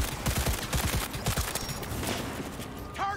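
Gunfire from the video game Cyberpunk 2077: a burst of rapid, punchy shots in the first half-second or so, followed by denser noisy action and a short rising electronic tone near the end, with a voice briefly heard.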